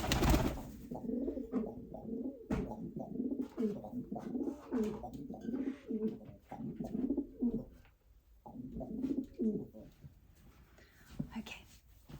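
A big, heavy pet pigeon or dove coos repeatedly close by, in rhythmic throaty bursts with short pauses, the calls running through most of the stretch.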